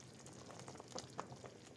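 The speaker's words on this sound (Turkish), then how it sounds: "Evet 20 dakikadır kaynıyor reçelim." Thick strawberry jam bubbles quietly in a pot over low heat, soft pops and plops scattered irregularly over a low simmering hiss.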